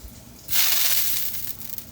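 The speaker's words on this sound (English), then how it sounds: "I take a little bit of water in my hand and I just throw it on the pan" Water flung onto a hot cast iron pan on a stovetop bursts into a sudden loud hiss that fades into a crackling sizzle over about a second and a half, close by and without talk.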